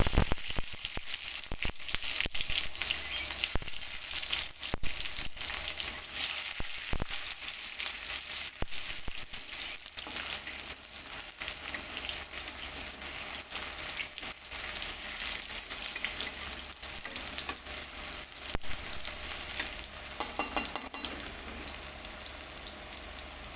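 Bay leaf, cumin and onion frying in oil for a prawn curry, a continuous crackling sizzle with occasional stirring scrapes, steady and close for over twenty seconds, with no voices.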